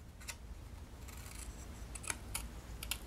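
Scissors snip straight across paper pinwheel pieces in several short, crisp cuts with brief pauses between them, close and fairly quiet, with no voices.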